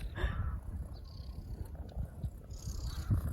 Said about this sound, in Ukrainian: І мурчить так голосно.